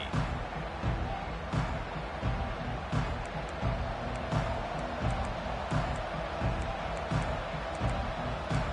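Football stadium crowd at an Alabama versus Florida State game, a broad steady roar of cheering with scattered louder swells and claps, fairly distant and continuous, with faint talk underneath.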